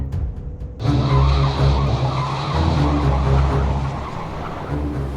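A car in a Hindi action movie scene turns sharply, tires squealing and skidding loudly after a brief quiet start, with the engine roaring under the screech before it eases slightly toward the end.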